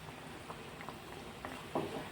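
Kashmiri dum aloo gravy simmers gently in a pan, giving off faint, irregular bubbling pops and soft sputters over a low steady hiss, heard close and quiet without speech.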